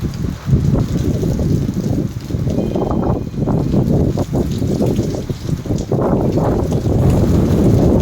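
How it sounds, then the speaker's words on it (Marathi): Strong gusty wind roars with a dense wash of heavy rain during a thunderstorm in Shegaon, rumbling and buffeting continuously throughout. "शेगावमध्ये वादळी वाऱ्यासकट विजेचा कडकडा जोरदार पावसाचे आगमन"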